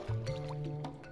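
Water being placed in the Minecraft video game: a short soft liquid splash and gurgle, quiet and close, with a low steady tone underneath.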